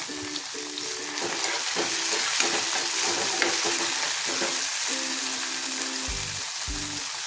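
Chopped onion and a small whole tomato fry in a pan, giving a steady close sizzle, with low thumps from stirring scattered throughout.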